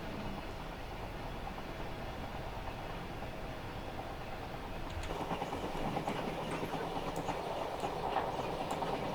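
Class 66 diesel freight train rolling along in a train simulator, a steady low rumble of wheels and engine that grows louder and busier halfway through, with faint clickety-clack.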